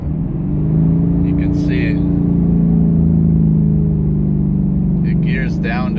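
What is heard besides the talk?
2019 Ford Mustang GT engine revving under hard acceleration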